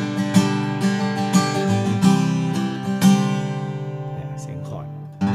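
A Takamine PTU200 SP-K acoustic guitar, picked up by a condenser microphone, plays a run of close, ringing plucked notes and strums that fade out near the end, with no talking.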